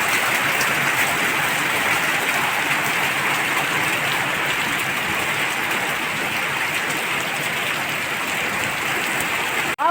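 Steady heavy rain hisses and patters continuously on nearby surfaces, loud and unbroken throughout, with no voices.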